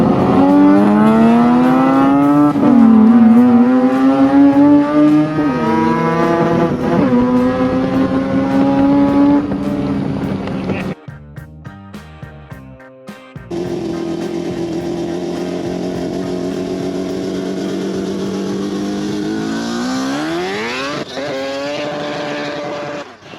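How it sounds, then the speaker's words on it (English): A Mazda RX7 Series 6 FD with a 26B four-rotor engine revs hard and loud while drifting, its rising and falling howl running almost continuously, with a brief drop near the middle before the engine screams back up. "I've got a Mazda Rx7 Series 6 with a 26B."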